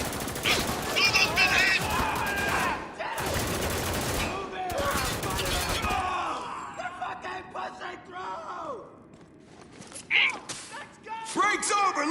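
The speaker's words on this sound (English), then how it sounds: "Now open fire!" Soldiers open fire in a video game with dense bursts of automatic gunfire and rapid shots, mixed with shouted voices and then sporadic bangs at the end.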